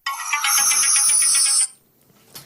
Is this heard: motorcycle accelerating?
no